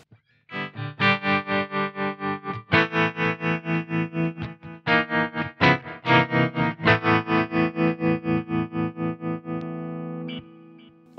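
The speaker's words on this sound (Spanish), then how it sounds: "Podemos agregar el trémolo del flint también." Electric guitar run through a GH Systems pedalboard with Flint tremolo, delay and reverb, playing loud strummed chords whose volume pulses in a steady rhythmic tremolo, trailing into a sustained reverberant tail.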